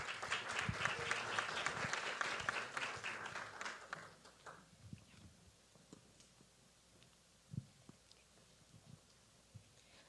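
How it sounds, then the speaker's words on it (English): An audience at a Falling Walls Lab event in Ecuador claps warmly to welcome a contestant. Dense applause rings out for about four seconds, then thins to a few scattered claps and small noises. "Please give a warm applause and welcome to Valeria"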